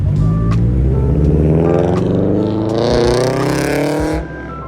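A modified Japanese truck engine at a Tokyo car meet runs loud and close, a dense throbbing drone whose pitch slowly climbs before it drops off abruptly near the end.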